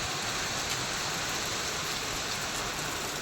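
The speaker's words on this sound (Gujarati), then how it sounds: "વરસાદ મસ્ત મજાનો પડી રહ્યો હોય" Steady rain pours down in a dense, even hiss that never lets up, with no voices.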